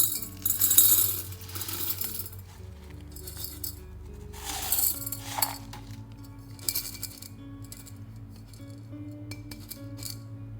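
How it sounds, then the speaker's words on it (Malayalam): Small stones poured into a glass terrarium for a drainage layer, giving bright clinks and rattles in short bursts, close and fairly faint, with quieter scattered clicks as they settle. "ചെറിയൊരു ലെയർ നമുക്ക് ഈ കല്ലുകൾ ഇട്ട് കൊടുക്കാം."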